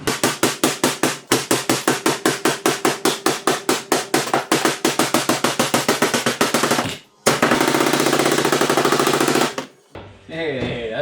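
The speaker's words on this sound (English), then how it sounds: "Let's go beat that with a hammer for a bit." A dead blow hammer beats a metal panel into shape with a rapid, steady run of loud, close strikes, then a dense continuous burst of blows, ending with a short pause and softer knocks.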